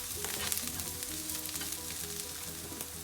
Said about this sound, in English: Now dropping in the curry leaves. Saute them for about 1 to 2 minutes on low flame.